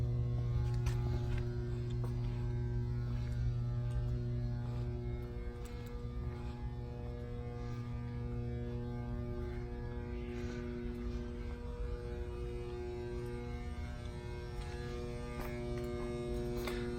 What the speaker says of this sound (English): Here's your main control, your main hydraulic pump on.